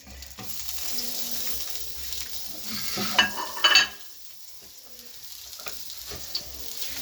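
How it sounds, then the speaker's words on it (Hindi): Chopped onion frying in a little oil in a pan gives a steady close sizzle, with a short burst of stirring and clatter in the middle before it settles back to a softer hiss. "सबसे पहले हम डालने लगे हैं 1 प्याज, जो मैंने ऐसे काट के रखा हुआ"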